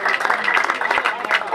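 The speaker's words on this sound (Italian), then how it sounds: "Lina, facciamo un bel applauso a Lina." Applause from a small crowd, steady clapping over about a second and a half, with some voices mixed in underneath.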